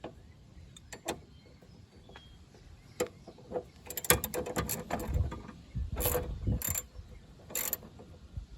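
A ratchet clicks in short bursts while a strut bolt is started on a 2005 Chevy Malibu, with scattered metallic clacks, and a few louder, quicker ratcheting runs toward the end.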